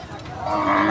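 Cattle at a crowded Eid livestock market held on a school field, one animal letting out a loud, close, rising moo that swells through the whole moment over crowd noise.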